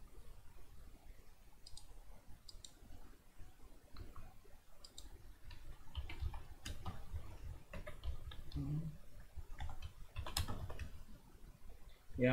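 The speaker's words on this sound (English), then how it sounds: "Yeah, I'm typing a ticket." Computer keyboard typing is heard as scattered light key clicks in short bursts, faint and close, with a voice talking over part of it.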